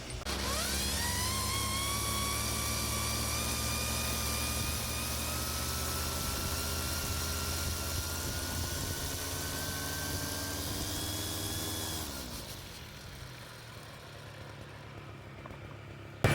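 A brush cutter engine, fitted with a homemade anti-tangle blade, runs steadily at a constant buzzing whine for about twelve seconds, then slows and winds down, leaving a quieter idle.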